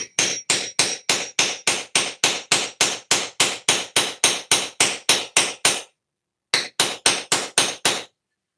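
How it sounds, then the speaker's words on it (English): Loud, evenly spaced hammer blows ring out about twice a second, a steady run of strikes, a brief pause, then several more. "Boom, hammer. All right, hammer time."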